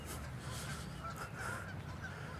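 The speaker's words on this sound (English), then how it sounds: "Or you're distracted because you hear all the geese." Geese honking in a park, a scattered chorus of calls at moderate distance over steady outdoor background noise, with no clear talking.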